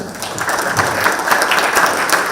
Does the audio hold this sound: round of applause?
yes